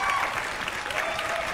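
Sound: applause for a contestant

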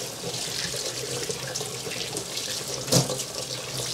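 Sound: washing hands under running tap water

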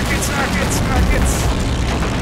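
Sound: rockets fired from a plane exploding in video game Army Men

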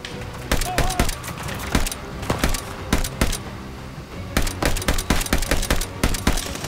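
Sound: gunfire in Call of Duty Vanguard video game

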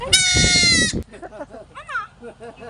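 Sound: goats bleating

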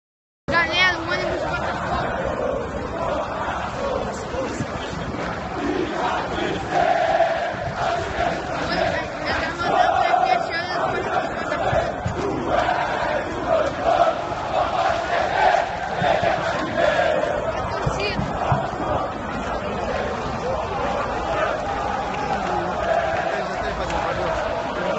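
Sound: Botafogo football fans cheering in stadium

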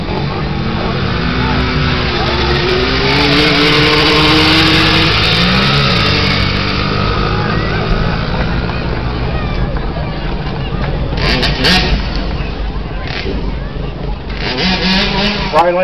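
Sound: drag race cars racing on the track

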